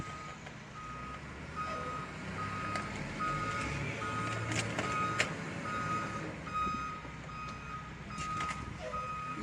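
A tow truck backing up in snow gives a steady series of evenly spaced reversing beeps, clear but moderate over a constant rumbling engine and outdoor background.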